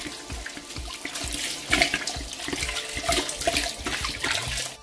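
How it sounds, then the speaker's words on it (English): Water poured steadily into a cooking pot of chicken broth for kabuli pilaf, a loud continuous splashing gush with no voices. "Now we're gonna add water."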